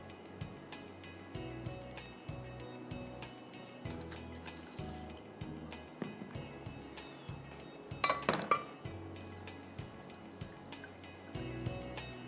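Water is poured into a cooking pot of meat in a kitchen, a brief splashing burst amid light clinks of pots and utensils and scattered drips, close and moderately loud.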